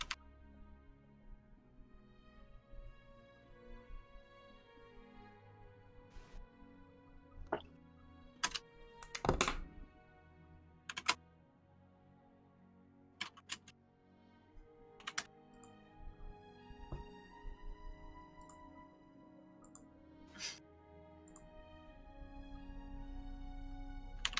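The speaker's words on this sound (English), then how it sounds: "I'll type it to you. I'll type it." Scattered, uneven clicks and clacks of typing on a computer keyboard sit over a faint tonal background, with bursts of keystrokes separated by pauses.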